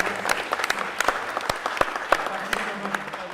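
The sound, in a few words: applause for the speakers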